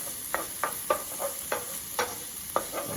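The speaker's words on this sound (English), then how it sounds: "A bit of a sizzle coming on." Onion and two cloves of garlic sizzle in a pan while being stirred for a Moroccan spiced lamb pie. There are soft, regular scraping strokes, about one every half second, over a faint steady hiss, with no talking.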